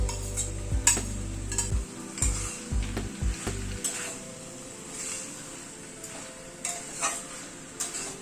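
Capsicum and onion get stirred into chicken frying in a pan, a spoon scraping and clacking in an uneven rhythm over a steady, fairly quiet sizzle, with a low hum at the start and no voices.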